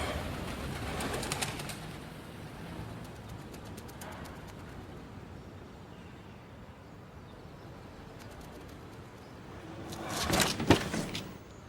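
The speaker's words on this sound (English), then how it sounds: "An erupting pigeon briefly interrupts, otherwise silence." A pigeon erupts into a brief flurry of wingbeats and cooing near the end, loud against an otherwise quiet top-floor room with faint rustles earlier.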